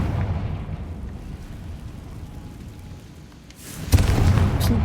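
Confringo blasting spell in the video game Hogwarts Legacy: a low rumbling lull gives way to a sudden sharp, loud explosion near the end, followed by a dense crackling roar of debris, with no voices.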